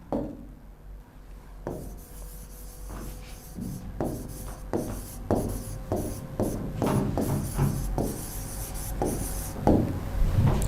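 Marker strokes on a classroom whiteboard as a teacher writes out an English sentence, a series of scratchy squeaks and taps in irregular bursts, close and clear against quiet room tone.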